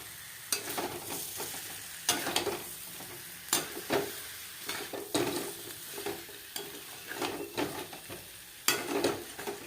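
Potatoes for vegetarian aloo dum sizzle and fry in a pan as water goes in, with repeated sharp stirring scrapes and clinks at an irregular rhythm, close up and without speech.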